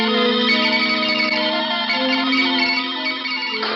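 Eerie, heavily processed music swells out of nowhere in an empty room with no phonograph, thick with distortion, chorus and echo, sustained and loud for the whole stretch with no voices over it.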